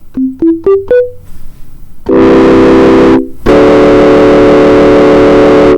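Ableton Live 11 Operator software synthesizer: four quick rising plucked notes, then a loud buzzing distorted chord that holds, cuts out briefly, and returns sustained.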